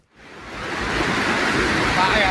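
Floodwater from the overflowing Bendo Krosok river in Kediri, East Java, rushes in a broad, dense roar that swells up from near silence and holds loud and steady.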